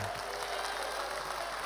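An audience claps in a round of applause at a real estate sales event, a steady dense wash of hand claps that holds for a short stretch at moderate level with no voice over it.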